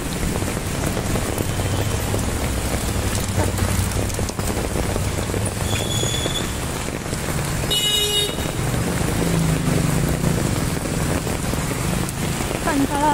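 Torrential rain pours down on a street in Viman Nagar, Pune, a loud, unbroken roar of drops hitting surfaces close by. Passing traffic rumbles underneath, and a car horn toots briefly midway.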